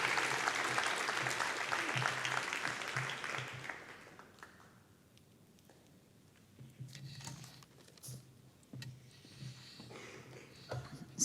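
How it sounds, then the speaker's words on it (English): Conference audience greeting a keynote speaker with warm applause that is full at first, fades after about four seconds, then gives way to scattered faint claps and small room noises. "We welcome you with a warm clap."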